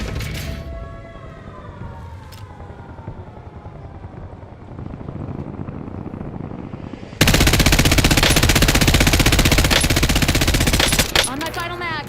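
Sustained machine-gun fire from incoming shots in a video game rattles continuously, growing into a loud, dense barrage in the second half over a whining, siren-like background.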